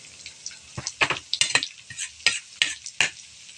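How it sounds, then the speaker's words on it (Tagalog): Onion hitting hot oil with frying garlic, bursts of sizzle and repeated scraping stirs of a utensil against the pan, close and fairly quiet. "huwag natin antayin masunog yung garlic. Ilagay na natin yung onion."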